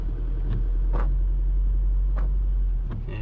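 Cars queuing up a hill as traffic leaves, a constant low rumble of engines and road noise close by, with a few brief whooshes of vehicles moving past.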